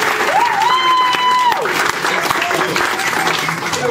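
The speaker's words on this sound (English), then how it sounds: "just a round of applause for that" Wedding guests clap in a round of applause at a family wedding reception, a short burst of crowd clapping that blends with a voice speaking and a brief whistle-like tone.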